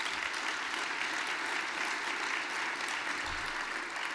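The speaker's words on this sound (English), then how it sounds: "Give them a round of applause." Continuous audience applause at a housing solutions forum keynote, many hands clapping in an even, unbroken wash, moderately quiet and heard alone without speech.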